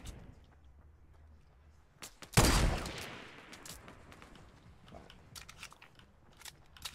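Fortnite battle gunfire: one loud, sharp shot bursts out and rings off, followed by scattered fainter cracks and thumps against a low background of game ambience.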